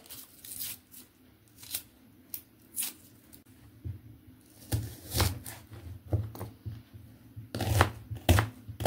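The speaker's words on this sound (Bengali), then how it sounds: "পেঁয়াজটা একটু ঝিরিঝিরি করে কেটে নিতে হবে।" A knife chops an onion finely on a board. Irregular crisp cuts, near and clear, come in quick bursts with pauses in a quiet room.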